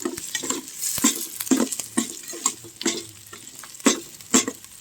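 Garlic and onion sauté in a pan while a utensil stirs and scrapes at a steady rhythm, and a continuous close sizzle runs under the repeated knocks.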